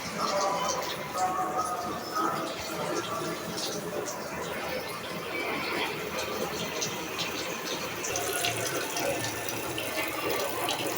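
Tap water runs in a steady, even gush while puti fish are being washed, with voices in the background.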